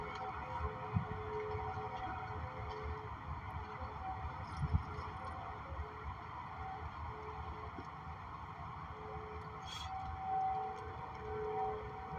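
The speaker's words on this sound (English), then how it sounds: "these fucking loud ass sirens" Storm sirens wail steadily and faintly from a distance, a sustained tonal drone under continuous low rumble, with no talking.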